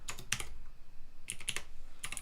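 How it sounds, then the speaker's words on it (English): Quick bursts of typing on a computer keyboard, a few keystrokes clustered at the start and again near the end, close and clear over a low background hum. "Let me type that out properly."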